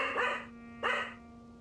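A dog barks twice indoors at home, close by: one sharp bark, a pause of about half a second, then a second bark, each fading quickly.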